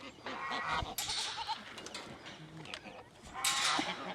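A heavy female goat on a farm bleats a few times, close by, mixed with people talking and general barnyard bustle.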